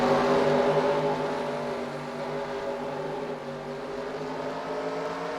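Race cars at Motordrome Speedway pulling away at the start of a bullring heat race, a loud sustained engine drone with layered harmonic tones that eases slightly over several seconds.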